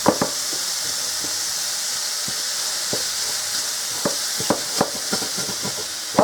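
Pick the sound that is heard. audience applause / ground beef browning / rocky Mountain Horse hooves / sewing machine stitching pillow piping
ground beef browning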